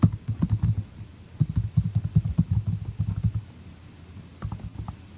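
Keys tapped on a computer keyboard while entering a web address in a Chrome browser, in quick bursts of close, light clicks with brief pauses, ending in a few last taps.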